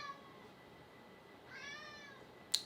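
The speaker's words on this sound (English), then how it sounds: "My cat keeps meowing." A house cat gives two soft, drawn-out meows indoors, the second slightly louder, followed by a brief sharp click near the end.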